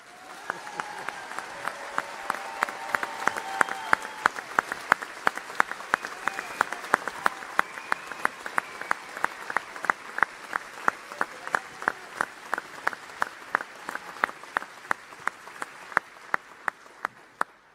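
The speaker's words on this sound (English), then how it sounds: "So let us once again show our commitment by giving Sadhguru a loud round of applause." Audience applause for Sadhguru at a Save Soil event in Paris: broad clapping that thins out over time into a few sharp, separate claps near the end.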